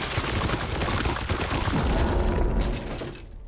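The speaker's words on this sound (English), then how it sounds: "Opening fire." Sustained, dense gunfire from the Warhammer 40,000: Chaos Gate - Daemonhunters video game, a loud continuous fusillade of overlapping shots and impacts that eases off slightly near the end.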